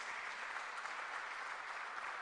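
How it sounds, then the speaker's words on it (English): A steady round of applause from an audience at a panel discussion on Christians as citizens addressing Ghana's challenges, with even, continuous clapping at a moderate level and no pauses. "Please give him a round of applause."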